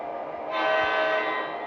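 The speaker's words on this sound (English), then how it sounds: "you can still hear the horn blowing to make sure that we're connected" A BlueRail model train horn blares at full volume in one sustained, buzzy electronic blast that swells in and holds steady, with no voices over it.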